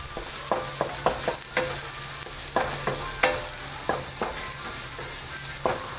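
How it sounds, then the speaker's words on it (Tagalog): Garlic and onion sautéing together in a pan, a steady hiss of frying under repeated sharp clicks and scrapes of a stirring utensil, close and even throughout without speech. "Sinabay-sabay ang bawang tsaka sibuyas."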